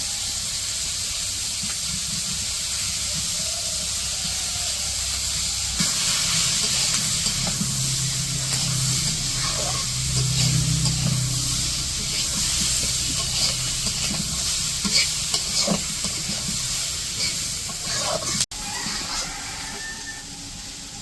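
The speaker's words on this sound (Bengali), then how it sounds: "এখন যে পেঁয়াজ আর কাঁচামরিচ মিশিয়ে নিতেছে" Onion and green chillies stir-frying in a pan for a village-style meal, giving a loud, steady steamy hiss and sizzle close by, with occasional scrapes and a sharp click near the end.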